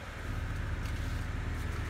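A 1996 Honda Civic EK engine runs at a steady idle just after starting, a low, even rumble that holds without change for a couple of seconds.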